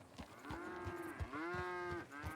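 Cattle on a video game ranch give two long, clear lowing moos one after the other, close and fairly loud, with no talk over them.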